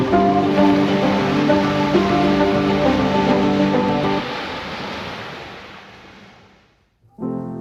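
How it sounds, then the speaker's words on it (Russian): Atlantic Ocean surf at Praia de Benagil, a fishing village beach in Portugal, washes continuously onto the sand in a broad roar, then subsides and briefly falls quiet before the noise returns. "Это океан."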